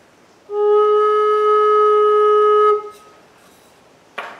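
A single sustained note from a Native American style flute with a freshly smoothed, sharpened true sound hole, held steadily for about two seconds, clear and close, alone with no talk.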